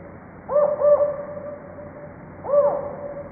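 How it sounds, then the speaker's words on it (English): A northern spotted owl hoots over a quiet background, a close pair of short low hoots followed after a pause by a third, clear and fairly loud. "and the northern spotted owl"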